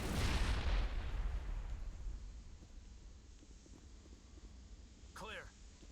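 A grenade goes off in the Mass Effect game, a single loud, deep boom at the start that rolls into a long fading rumble, followed by a quieter sweeping whoosh near the end.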